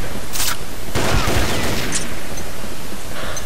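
The REC7 assault rifle fires in a video game, a loud, dense stream of rapid automatic shots that blur into a continuous crackling barrage.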